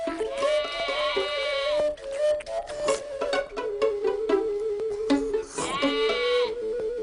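Sheep bleating in a pen, several loud wavering calls close by, some overlapping and spread across the span with short gaps between them.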